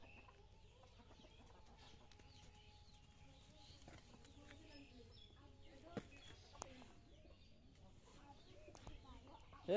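Tiger-breed chickens clucking quietly at a market, faint scattered clucks and calls under low background chatter.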